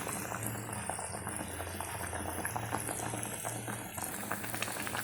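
Yam and elephant foot yam boil in a pot, a continuous bubbling simmer with soft pops and gentle rattling, moderately quiet and steady throughout.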